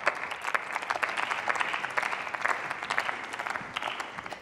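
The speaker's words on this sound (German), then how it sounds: "Applaus" Applause in the German Bundestag during a budget debate on the justice ministry, a crowd of members clapping steadily with some sharper individual claps standing out, tapering slightly at the end.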